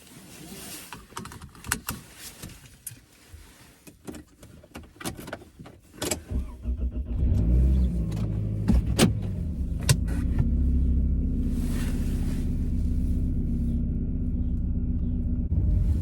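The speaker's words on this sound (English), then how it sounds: "So we're just gonna drive in the car today" A car drives along a road in the early morning, starting with some interior rattles and handling sounds before a steady engine and road rumble takes over and holds loud and constant to the end.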